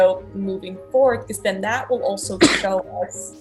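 A single short, sharp sneeze bursts out near the middle, close and loud, amid continuous talking.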